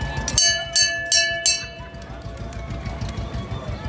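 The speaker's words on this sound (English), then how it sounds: "as soon as you start, we hit the bell." Bell on a Disneyland Main Street USA tour bus rung four times in quick succession, bright and close, followed by rumbling vehicle motion.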